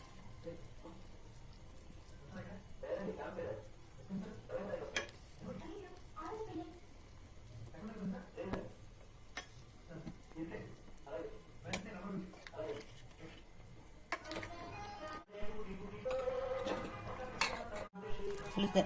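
A spoon scrapes and clinks in a pot of thickened crab curry as it is stirred, knocks and clatters repeating irregularly, with louder metallic clanks toward the end.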